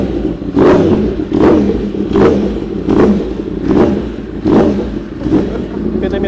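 Modified Yamaha R1M superbike engine on an automatic warm-up cycle, repeatedly blipping in loud, close, evenly spaced revs, about seven pulses with a rough idle between each.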